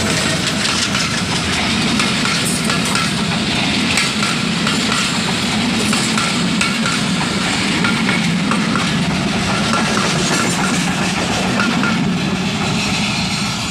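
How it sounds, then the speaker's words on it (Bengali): The Sirajganj Express passenger train rushes past at high speed, a loud, unbroken roar of wheels and rattling carriages lasting throughout, heard up close with no voices. "ঝড়ের গতিতে ট্রেনটি অতিক্রম করলো"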